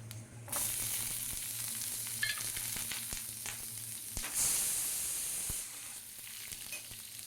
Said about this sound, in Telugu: అదే ప్యాన్లో మళ్ళీ ఆయిల్ వేసుకుని కట్ చేసి పెట్టుకున్న ఉల్లిపాయలు వేసుకోవాలి